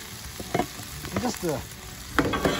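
Leftover turmeric rice is tipped into a pan of frying vegetables and stirred, giving a steady close sizzle broken by several scraping and clattering stirs.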